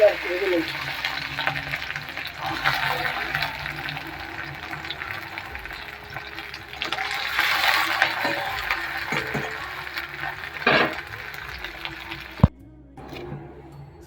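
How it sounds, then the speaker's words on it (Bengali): Chopped garlic fries in oil in a home kitchen, with a continuous moderate sizzle, occasional stirring scrapes and a sharp clack near the end. "এখন সেম ভাবে আমি রসুন কুচিগুলো ভেজে নেব"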